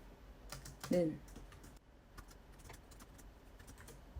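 Python code is typed on a computer keyboard in quick, light key clicks and bursts of tapping, faint and close, with a brief louder thump near the start.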